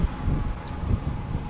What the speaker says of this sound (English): Ooh, got more windy now.